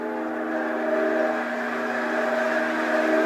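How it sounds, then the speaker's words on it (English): Train going by, a steady droning rumble with sustained tonal hum, moderately loud and continuous for the whole stretch, with no voices. "Here comes a train."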